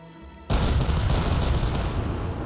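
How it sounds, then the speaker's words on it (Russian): Ship's cannon fires in the naval battle game Corsairs: City of Abandoned Ships, one heavy booming blast that hits abruptly and rolls out into a long rumbling decay, loud and close with no voices. "звуки выстрелов в пушек"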